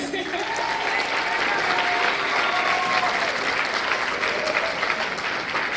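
Steady audience applause fills an accelerator demo day hall, sustained clapping from a sizable crowd with faint tonal traces of voices or feedback running underneath.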